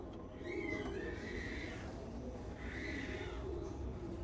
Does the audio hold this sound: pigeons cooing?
yes